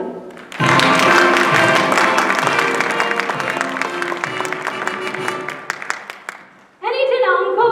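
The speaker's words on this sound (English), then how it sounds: "a warm round of applause, if you will, for our guest artiste tonight" A theatre audience at a stage musical gives a warm round of applause for the guest performer, a dense burst of clapping that thins out before a voice cuts in.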